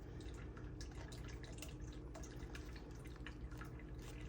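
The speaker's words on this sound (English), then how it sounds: "my videos will have a water feature, the sound of dripping water in all of them." An indoor water fountain drips and trickles softly and continuously, faint and close with no voices, scattered small drops over a low steady hum.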